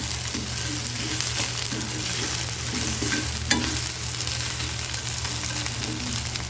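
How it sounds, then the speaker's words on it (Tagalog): Small dried anchovies fry with cooked okra in a hot wok while being stirred, a steady close sizzle with soft scraping stirs running underneath. "ilalagay na natin ang ating dilis. Ayan. Tapos, haluin natin."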